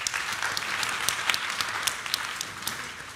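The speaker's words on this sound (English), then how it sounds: "let's give everyone another round of applause" A panel audience applauds in a steady patter of many hands at moderate distance, sustained for a few seconds with no voices over it.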